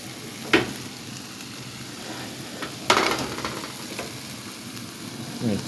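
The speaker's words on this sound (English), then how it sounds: "Hear that sizzling?" Steak sizzles steadily in a hot frying pan, a constant crackling hiss with a few sharper pops and clatters, close and fairly loud.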